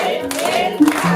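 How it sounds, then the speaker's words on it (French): Crowd at an Easter celebration applauding, with loud bursts of clapping and a voice calling out over it. "nous allons applaudir, mais très fort et avec déplacement."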